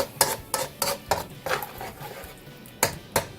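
A utensil scrapes and knocks rhythmically against a pot while spaghetti sauce is mixed with water, about ten sharp close clinks in an uneven beat.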